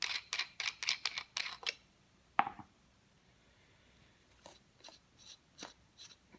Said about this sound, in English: We're gonna take off the pommel.